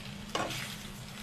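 Food frying in a pan in a Dhaka home kitchen at 2 a.m., a close, steady sizzle with a sudden brief burst of hissing and stirring near the start.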